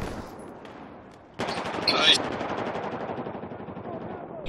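Automatic rifle fire in the video game Battlefield 4 opens abruptly after a quiet start, then continues as dense, rapid bursts of gunfire at close range, loud and sustained to the end.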